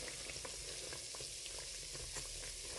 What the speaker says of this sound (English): You can see that these dumplings are frying because they are floating to the top of the oil.